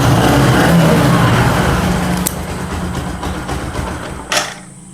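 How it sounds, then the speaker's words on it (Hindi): A vehicle engine with a wrongly gapped spark plug runs roughly and loudly close by, then loses power and dies away, leaving near silence at the end. "गाड़ी बार बार बंद हो रहा है।"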